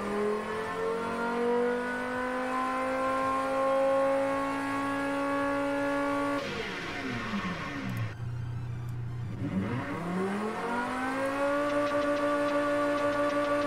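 A car engine in the Automation video game revs at high RPM, a loud sustained whine that drops sharply, dips low, then climbs back up to a steady scream.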